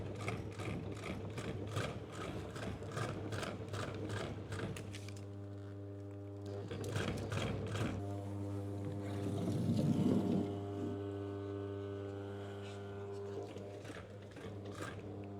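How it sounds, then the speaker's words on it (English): Motor of a table tennis net making machine running continuously with the clutch engaged, a steady low hum with rhythmic mechanical ticking and clattering, a louder stretch midway; people talk over it. "the motor's going all the time. It's the clutch that does this"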